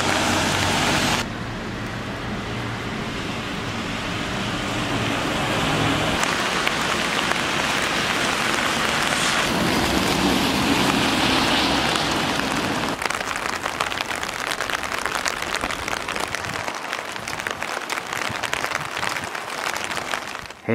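Heavy rain pours steadily outdoors, a dense loud hiss of drops hitting surfaces that keeps going for the whole stretch, shifting slightly in texture with no voices.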